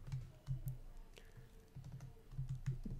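Computer keyboard typing code for a Dialogflow multilingual agent, with bursts of soft, close key clicks in uneven rhythm and brief pauses between them, heard alone without talk.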